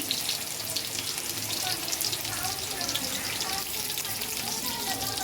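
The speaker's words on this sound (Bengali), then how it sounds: "তেলটা গরম হয়ে যাওয়ার পরে এখানে আমি পেঁয়াজটা দিয়ে দিব" Chopped onion sizzles in hot oil, a steady, even hiss of frying that carries on without a break, fairly close and moderately loud.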